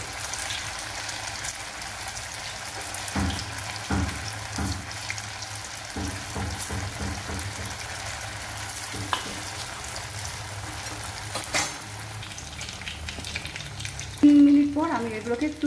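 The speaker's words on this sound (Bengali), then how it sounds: "এবার আমি তেলের মধ্যে একটা একটা করে বড়া ছেড়ে দিচ্ছি।" Sabudana vadas sizzle steadily in hot oil over a high flame, a continuous close frying hiss with occasional clicks and utensil taps, and a brief louder clatter near the end.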